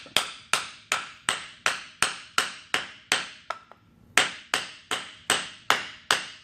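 A hammer drives a stake into the ground outdoors, with about fifteen sharp, evenly spaced strikes and one short pause midway before the blows resume at the same steady pace.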